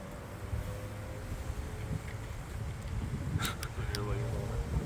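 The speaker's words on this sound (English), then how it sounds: "That was a wicked gust of wind." Strong gusts of wind during a microburst storm buffet the microphone, producing a continuous roaring rush that swells and churns throughout, with a few brief sharp rattles toward the end.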